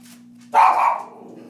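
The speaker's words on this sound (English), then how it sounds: "My dogs are hearing everything and barking." Several pet dogs indoors bark once sharply and loudly at close range, the single burst trailing off over a faint steady hum in a quiet room.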